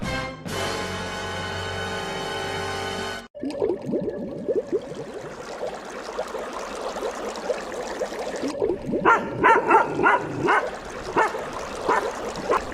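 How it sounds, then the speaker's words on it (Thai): Several dogs bark and yip in a public park, the barks coming in irregular bursts that grow louder and more clustered toward the end, following a sustained tonal passage at the start. "หมามันเห่าอะไรกันเนี่ย เสียบรรยากาศจริงๆเลย"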